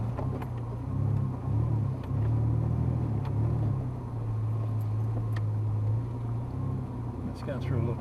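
A 4WD pushes through soft sand on Bribie Island, its engine a low, steady rumble heard from inside the vehicle while people talk over it.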